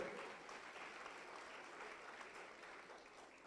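Steady applause from a crowd, a dense continuous patter of clapping that holds at an even level throughout.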